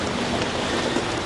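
Steady rain falling in the Congo rainforest, a dense, continuous hiss of drops on foliage that holds even throughout the short stretch with no voices.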